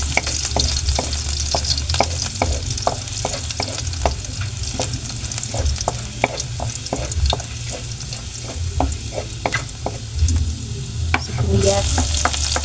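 Garlic sizzles in hot oil in a pan for vegetable chop suey, a steady frying hiss with regular scraping stirs of a utensil, close and without talk.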